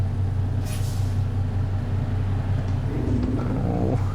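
Truck in American Truck Simulator rolling with a deep, steady engine drone, a brief air-brake hiss early on and a rising engine note toward the end, loud and continuous.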